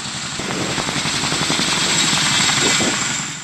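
A Chinook helicopter's rotor thuds steadily with a loud engine whine, the heavy chopping rhythm close and continuous throughout.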